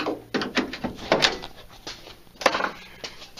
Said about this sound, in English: now the door opens and closes